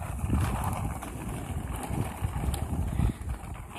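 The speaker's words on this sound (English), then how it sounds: "it's so windy out there" Gusty wind blowing outdoors in Delaware, buffeting the microphone in steady low rumbling bursts that rise and fall, fairly loud and close, with no talk.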